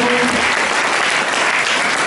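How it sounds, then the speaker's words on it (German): Crowd at a sports honours day in Bad Salzuflen applauds the sponsors, a loud dense wash of clapping sustained from start to finish, with a brief faint voice near the beginning. "also nochmal auch ein Applaus an die Sponsoren"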